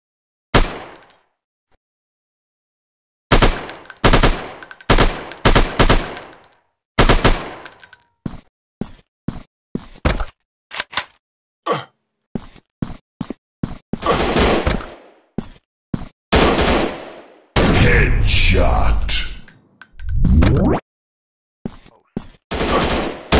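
Gunfire in the Android shooter Battleground Survival Shooter, with repeated bursts and single shots separated by silent gaps, close and loud, plus a longer sustained volley near the end.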